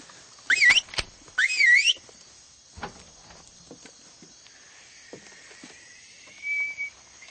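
Two short, sharp whistled calls in quick succession ring out clearly, followed by a long, faint, steady whistle tone and quiet background.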